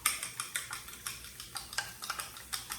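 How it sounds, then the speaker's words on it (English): Eggs beaten in a bowl with a fork or whisk, quick rhythmic clinking taps against the sides, close and moderately quiet. "So I've got some eggs. I'm going to just mix them up a little bit"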